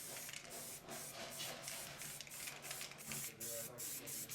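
Spray paint can misting paint over a terrain model in bursts, a steady broad hiss cut by brief pauses, close and fairly quiet, with a voice faintly present.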